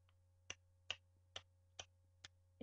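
Voice imitating a mysterious ticking noise with six sharp clicks at an even, clock-like pace, quiet and isolated over a low steady hum.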